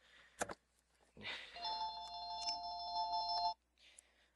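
An electronic phone ringtone sounds once in a steady two-tone chime lasting about two seconds, fairly quiet and close, after a brief thump and rustle, with no talking over it.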